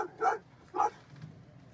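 A rescue dog searching earthquake rubble in Taiwan gives two short, moderately loud barks about half a second apart, followed by quiet background.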